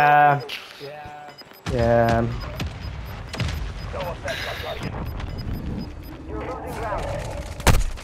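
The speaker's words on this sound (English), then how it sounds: "Mortar strike inbound now." A mortar strike lands in Warzone 2.0 amid gunfire, with sharp booms and bursts of shots scattered through the clip, including a loud blast near the end, while several players talk and shout over the combat.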